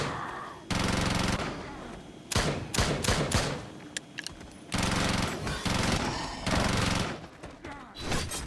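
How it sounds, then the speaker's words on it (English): Rapid machine-gun bursts from the arcade zombie shooter Spawn of the Dead, loud and close, with several long sustained volleys broken by short gaps and sharp single shots, no talking. "The machine gun here was welcome."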